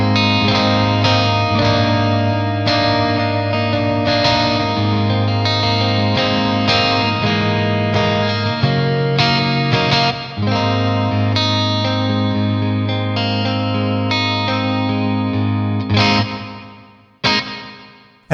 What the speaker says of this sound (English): There's some nice modulation in the reverb as well, so it's a very rich sounding reverb.